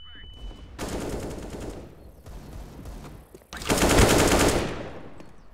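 Bursts of rapid automatic gunfire from a Counter-Strike match, two long loud volleys separated by a pause, with a short quieter spray between them and a voice talking faintly.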